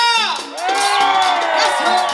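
A crowd of children shouts and cheers loudly on request, their high voices rising and falling in overlapping whoops and screams, close and continuous.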